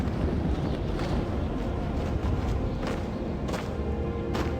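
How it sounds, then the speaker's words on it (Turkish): Loud, continuous rushing wind in the video game Sky: Children of the Light, with gusty swells and a rumbling low roar, steady throughout with no voices. "Burada beni rüzgar uçuruyor sağ sola tek başıma"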